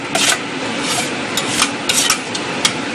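Rice being stirred into a tuna mixture in a pot, heard as close, repeated rubbing scrapes of a spoon against the pot in an uneven rhythm.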